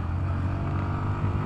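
The engine of a 2020 Yamaha MT 125 motorcycle drones steadily and loudly up close while being ridden, a continuous low hum with no one talking.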